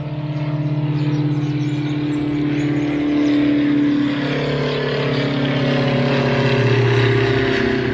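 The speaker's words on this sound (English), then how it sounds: "Oh, airplane." A propeller airplane passes overhead in a loud, steady droning hum whose pitch drops midway as it flies past, with no voices.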